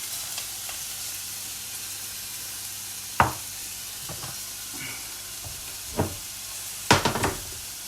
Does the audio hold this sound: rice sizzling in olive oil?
yes